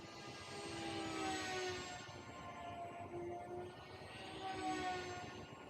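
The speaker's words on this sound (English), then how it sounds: "It flies beautifully. It's a fun little airplane." A three-motor Tri Motor model airplane drones overhead with a steady multi-motor whine that swells and fades as it passes, moderately distant and alone without talk.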